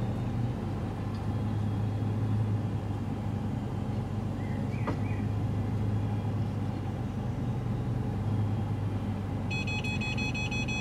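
Mercedes-Benz CLA 45 AMG reversing into a parking space under park assist, its engine a steady low rumble throughout, with a short run of faint electronic beeps near the end.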